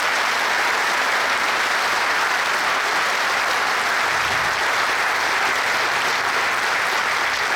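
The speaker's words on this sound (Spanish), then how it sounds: "Más fuerte el aplauso" Loud, sustained applause from a large crowd at a PIT-CNT trade union gathering, dense steady clapping that fills the whole stretch without voices over it.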